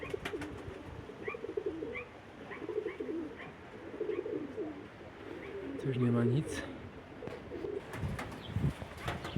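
Young pigeons coo outdoors on their first flights, soft repeated low calls with light chirps, while someone talks over them and a louder coo swells midway.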